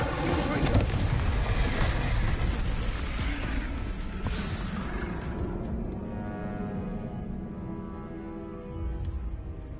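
Confringo and Incendio spell blasts in the video game Hogwarts Legacy, a heavy booming burst followed by a long fiery rumble that slowly fades, with a bright magical shimmer near the end.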